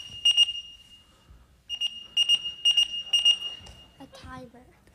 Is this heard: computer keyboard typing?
no